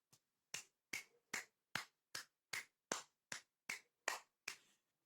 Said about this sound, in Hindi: ओके, मैं ही ताली बजा लूंगा।